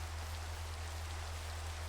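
Steady, faint rain hiss falls continuously in Minecraft, with a low constant rumble underneath and no other sounds.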